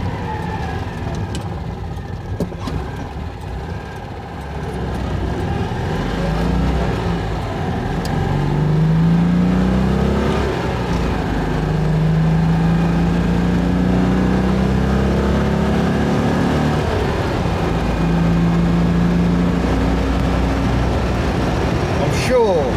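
A Citroen 2CV on the road after an engine overhaul with new pistons and barrels, its small twin-cylinder engine droning steadily and rising in pitch as it accelerates through gears, heard from inside the car under occasional talk.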